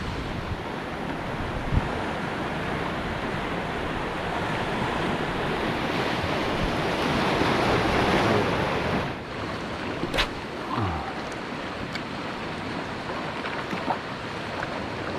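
Rough sea surf pounds steadily at a fishing spot, a loud continuous wash of breaking waves with wind buffeting the microphone and a few faint knocks near the end.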